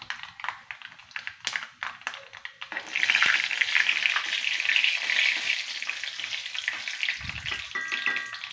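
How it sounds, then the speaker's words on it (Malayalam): Mustard seeds hit two teaspoons of hot oil in a pan and burst into a loud, steady sizzle, preceded by light tapping and clinks of a utensil, with a brief low knock near the end. "ഞാൻ എണ്ണ 2 ടീസ്പൂൺ എണ്ണ ഒഴിച്ചിട്ടുണ്ട്. അപ്പോൾ അതിലേക്ക് കടുക് ഇട്ടിട്ടുണ്ട്."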